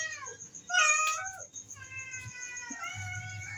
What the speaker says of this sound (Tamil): அதுக்கட்டி எங்கள் பூனைங்கள்லாம் வருது பார்த்தீங்களா?